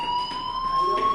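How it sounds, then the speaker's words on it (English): A fire alarm rings with steady, unbroken electronic tones that hold at an even loudness throughout and fill the space without any voices. "Hey, do you hear that fire alarm?"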